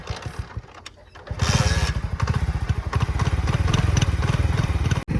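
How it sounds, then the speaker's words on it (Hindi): A parked motorcycle that had been standing outside sputters and misfires as it struggles to start, then settles into a loud, uneven, rapidly pulsing idle close by, cutting out briefly near the end. "गाड़ी जो है बाहर खड़ी थी, तो इसलिए चालू होने में दिक्कत कर रही है।"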